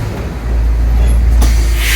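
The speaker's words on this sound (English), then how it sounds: "once you hear my air brakes" A San Diego Zoo tour bus hisses as its air brakes release while it pulls to a stop, a burst of broad noise rising over a steady low engine rumble.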